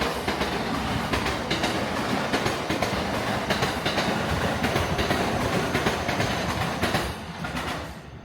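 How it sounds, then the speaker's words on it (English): Train passing by with steady rumble and rhythmic clickety-clack of wheels on rails, loud and continuous, fading slightly at the end. "Sorry, I had to wait for the train to go by."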